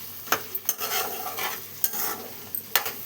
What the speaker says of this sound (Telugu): వంకాయలు అయితే వేసేసుకొని కలిపేసుకున్నాము